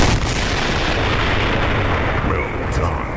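An IS-3 heavy tank's main cannon fires in a video game battle on an airfield map, a loud, dense boom that swells into a long rumbling roar and fills the whole moment.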